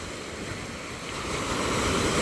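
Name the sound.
large ocean waves at fishing port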